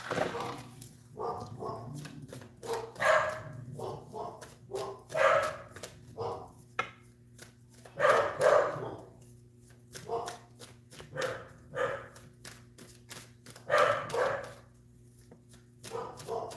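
Several dogs bark excitedly and repeatedly as someone approaches the door, loud bursts coming in quick succession over a constant low hum.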